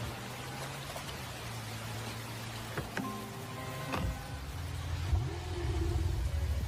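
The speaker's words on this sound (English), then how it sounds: "You can use like the different keys to call your car, essentially." A car summoned with a key button in Neverness to Everness, arriving as a low engine rumble that swells and revs while rain patters in the background.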